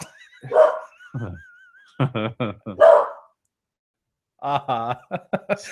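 An excited dog whimpers and barks in short bursts, several clustered yelps then a quieter pause and another run of barks, close by with brief voices between.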